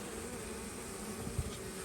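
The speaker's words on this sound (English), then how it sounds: "We're going to get ourselves a scoop of bees" A steady, dense hum of many honey bees buzzing together as a scoop of bees is taken from a hive in spring, continuous throughout, with a soft thump near the end.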